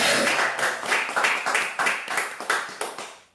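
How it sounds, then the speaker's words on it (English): A small audience claps in short bursts, the rhythmic hand claps swelling and fading in waves before stopping abruptly. "Give a good round of applause to those people."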